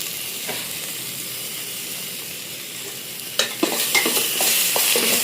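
Ginger garlic paste frying in hot oil for a chicken gravy gives a steady, close sizzle. Louder stirring clatters and bursts of spatter come in during the second half.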